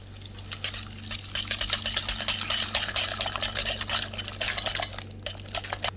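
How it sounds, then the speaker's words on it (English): Onion and cucumber raita with roasted cumin, black pepper and salt whisked in a bowl: quick, rhythmic clinking strokes of a utensil against the dish, close and continuous over a low steady hum. "And now whisk everything."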